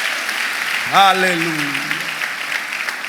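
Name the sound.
congregation applauding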